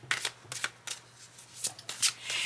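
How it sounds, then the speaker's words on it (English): Tarot cards are shuffled up close in a series of quick, papery riffle bursts with short pauses between them, quiet and alone over a faint steady hum. "a couple more shuffles and we'll be ready to begin."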